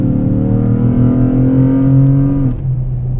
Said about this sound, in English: A little acceleration for you boys.